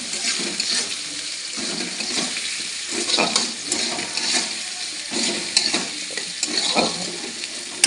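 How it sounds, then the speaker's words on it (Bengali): Onions cook in hot oil with a pinch of salt for an egg tarka, a steady sizzle running throughout while a utensil scrapes and stirs in repeated strokes, close and fairly loud, with no voices. "এবার ভালো করে নাড়িয়ে নেব"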